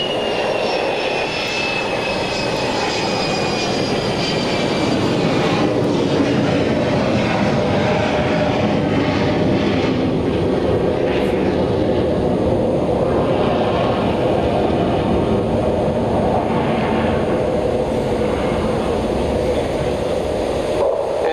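An RAF Hawker Siddeley Nimrod jet flies a display flypast at an airshow, a loud continuous roar of engines that holds steady with a high whine early on and then a broad rumble throughout.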